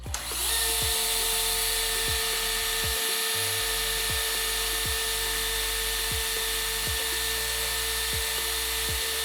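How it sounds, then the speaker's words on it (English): Shimano BeastMaster MD 12000 electric reel spooling line, a steady high motor whine over a regular low ticking that repeats roughly every second, close and continuous without voices. "Now we just engage the technical lever to start winding the line onto the spool"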